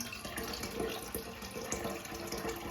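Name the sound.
water running while collecting leftover water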